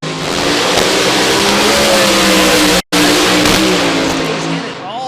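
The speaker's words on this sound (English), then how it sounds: "Revs up on that supercharged alcohol burning" Supercharged alcohol-burning funny car engine at a drag race in Texas, revving loud and close in a continuous roar with a brief cut midway, a commentator's voice faintly mixed in.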